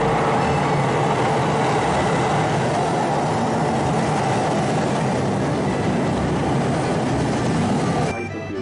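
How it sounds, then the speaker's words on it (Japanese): A train rumbles steadily into a station platform in Hokkaido, Japan, a continuous low mechanical roar that fades a little at the very end. "4番線に列車が到着いたします。"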